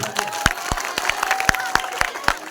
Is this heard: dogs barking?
no